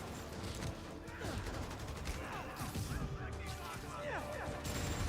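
Rapid bursts of gunfire and crashing impacts rattle through a Spider-Man Remastered gang shootout, fairly faint and continuous, with game voices talking over the fusillade.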